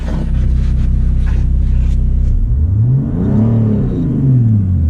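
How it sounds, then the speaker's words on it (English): A Mercedes E300 with an OM606 diesel engine idles with a heavy rumble, then revs up and down twice, the pitch rising and falling sharply, loud and close. "But definitely just revved up there"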